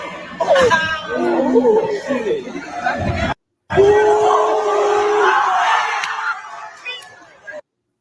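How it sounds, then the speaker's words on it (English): A crowd shouts, yells and laughs around a street fight, excited voices overlapping with chatter, cutting out briefly, then surging again before falling away at the end. "they was actually cheering him fighting that man"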